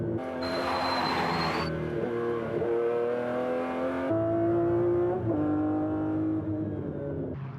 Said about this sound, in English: the McLarens decelerate from 175 to 50 miles per hour in 2 seconds, thanks to super efficient carbon fiber brakes